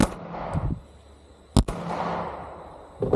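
Two sharp pistol shots from a Glock 43X firing SIG ammunition outdoors, each a loud crack followed by a decaying echo, with a further shot starting at the end.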